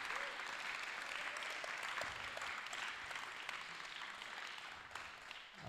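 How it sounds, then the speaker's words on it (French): A church congregation claps together in sustained, dense applause, steady and fairly distant, filling the room evenly without a break. "Est-ce qu'on peut juste acclamer Dieu? Can we just applaud our God?"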